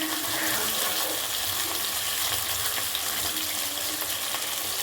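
Dried red chillies frying in hot oil for a ridge gourd mash, a steady dense sizzle without pause, close and fairly loud.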